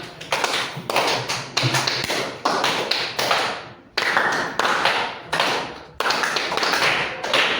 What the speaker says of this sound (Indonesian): Kalian menjawab tepukannya 2 kali.